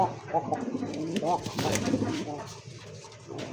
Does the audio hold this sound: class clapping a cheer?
no